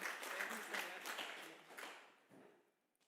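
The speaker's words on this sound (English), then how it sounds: "let's give Dr. Stolz-Urban a warm round of applause" Audience applause for a speaker at a youth employability forum in South Africa, starting full and dense, then thinning and fading out over a few seconds, with some voices mixed in.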